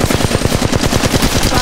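Automatic weapons fire in Apex Legends, a loud, close burst of rapid, evenly spaced shots that continues without a break.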